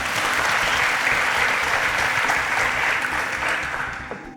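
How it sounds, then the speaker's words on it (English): Sustained audience applause at a Nigerian quiz show, loud and dense throughout, tapering slightly at the end. "Round of applause for Deborah."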